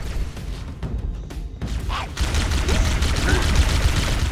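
Plasma rifle fire in Halo: Combat Evolved, a rapid stream of energy shots running over game noise and loud chatter from mid-clip onward, with brief whooshing bolts.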